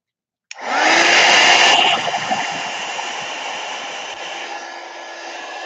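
A hair dryer switches on after a brief silence and blows steadily to dry a watercolor painting, loud and close, easing slightly after the first second and then holding a constant whooshing hum.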